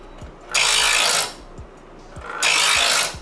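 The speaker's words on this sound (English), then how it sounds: "You'll hear the blade sawing." A knife blade saws across the coarse side of a sharpener in two long, loud rasping strokes, separated by a short pause with faint knocks.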